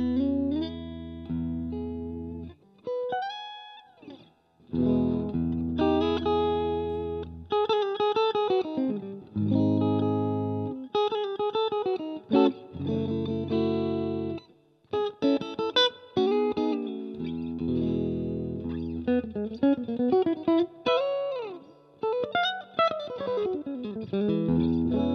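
Electric guitar played through a 1964 Fender Super Reverb amp, with clean sustained notes, bends and short licks separated by brief pauses, ringing with a touch of reverb.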